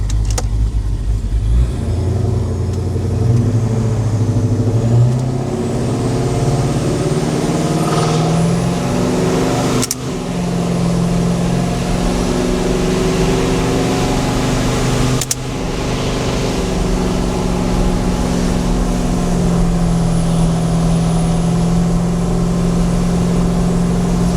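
A built RAM truck with a TorqStorm-supercharged 392 HEMI V8 drives around town, its engine a continuous loud drone with shifting pitch and two brief sharp bumps along the way.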